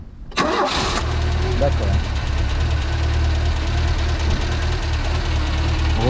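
A 1991 Renault 4 GTL Clan cranks briefly and catches, then settles into a steady, slightly knocking idle close by; someone says a single word as it fires.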